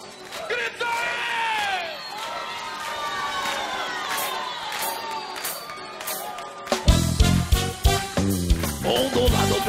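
A crowd at a Brazilian capoeira roda shouts and cheers loudly over rising voices, then a burst of sharp, rhythmic clapping and percussion joins in, close and lively.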